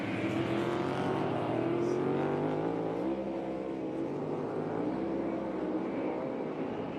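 NASCAR Cup Series race cars on the final lap give a loud, sustained engine roar with rising and falling pitch as they pass, layered over steady crowd and track noise.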